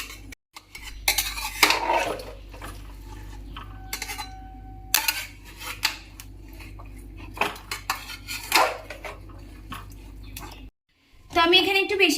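A spoon stirs chicken, potato and garam masala in a metal pot, giving repeated scraping and clanking bursts at an irregular pace, close and fairly loud, with a voice talking between strokes.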